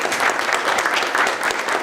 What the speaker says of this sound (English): Carla, incredible, round of applause.